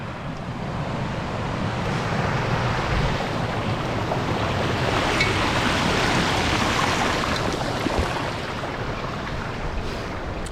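A flooded river in spate pours over a road at a normally shallow ford, giving a loud, steady broadband rush of water with wind buffeting the microphone throughout.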